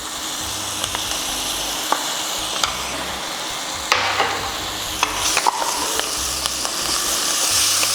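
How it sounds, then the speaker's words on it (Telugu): Ginger garlic paste frying with browned onions for a home-style mutton biryani, a loud continuous sizzle with scattered clacks and scrapes of a spoon stirring the pot, close and with no talk. "వీటిలో మనం ఇప్పుడు అల్లం వెల్లిపాయ ముద్దేసుకుందాం."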